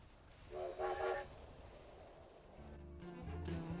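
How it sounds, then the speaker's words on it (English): Railway Rifle reload in Fallout 76, a short train-whistle toot followed by mechanical clanks and a second rising whistle-like tone, close and clear. "the great sound it makes, and that awesome, awesome choo-choo reload"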